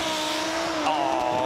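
An Audi Quattro S1 Evo 2 rally car launches off the start line on a rally stage, its engine note rising sharply as it pulls away, loud and close with a rasping, climbing tone.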